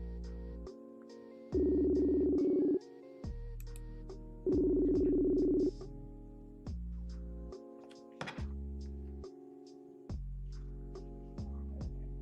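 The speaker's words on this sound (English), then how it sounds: "I'm going to call Larry from Facebook Messenger, so let's see if we can get him on" A Facebook Messenger call rings out from a phone with repeated electronic ringback tones. The tones come as stepped melodic pulses with gaps between them, clear and moderately loud, with no talk.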